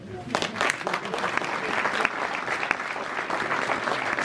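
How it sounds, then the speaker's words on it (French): An audience at a school inauguration ceremony in Yronde-et-Buron bursts into applause, a full, sustained patter of many hands clapping close by, with a voice briefly heard under it. "je crois qu'on peut encore vous applaudir"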